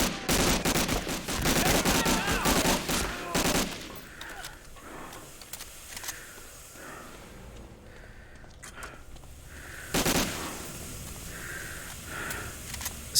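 Enemy gunfire in the WWII shooter Medal of Honor: Allied Assault, a dense burst of rapid shots up front, then quieter scattered reports and one more sharp volley later.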